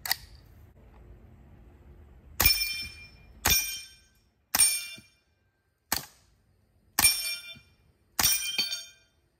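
A Smith & Wesson M&P 15-22 rifle in .22 Long Rifle fires at Texas Star steel targets: six sharp, separate shots with ringing metallic hits, spaced about a second apart, close and loud against a quiet outdoor background.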